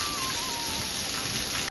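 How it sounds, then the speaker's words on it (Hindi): Heavy torrential rain pours down in a steady, dense roar of hiss and patter, constant and loud throughout with no voices. "बहुत जबरदस्त वाली बारिश हो रही है"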